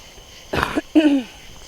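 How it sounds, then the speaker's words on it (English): A person coughs twice in quick succession outdoors at night, close and fairly loud, with crickets and insects droning faintly in the background. "I've got a cough."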